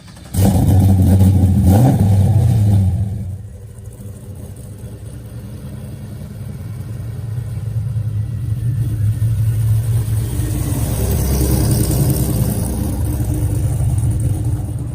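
A square-body Chevy work truck with a 750-horsepower supercharged LSA engine, heard up close as a loud roaring rev that drops to a deep rumble before building steadily again.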